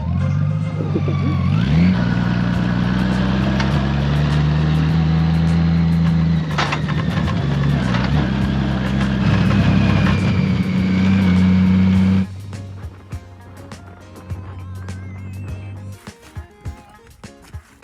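A Honda Goldwing motorcycle carrying two riders rumbles loudly and steadily on an off-road wilderness climb in Idaho and Montana, with the engine pulling hard, then dropping to a quieter idle with clicks and knocks near the end.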